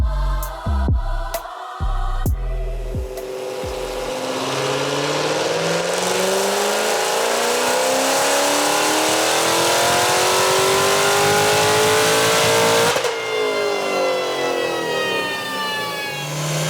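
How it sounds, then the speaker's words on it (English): A 2016 Chevrolet Corvette C7 Z06 with full bolt-ons and a Kong X-Port revs on a dyno. A few sharp blips lead into one long, loud pull whose pitch climbs steadily, then cuts off abruptly before the engine settles back. "Matt finished up the Z06. He's looking pretty. It's about to hit the dyno."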